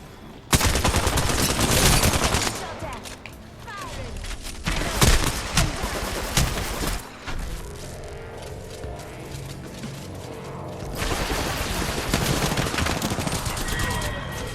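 Rapid Alternator submachine gun bursts in the Apex Legends shooter, loud close fusillades with mechanical clicks and reload clatter, broken by short pauses and game effects.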